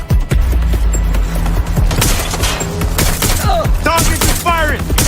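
Gunfire during a firefight in the video game Watch Dogs Legion, rapid loud volleys of shots over a booming low backdrop, with shouting voices mixed in.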